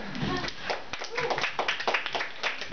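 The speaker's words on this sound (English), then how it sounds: "everyone give a round of applause, please" An audience at a live performance applauds with steady, dense clapping that fills the room for the whole stretch, loud and close, with scattered voices mixed in.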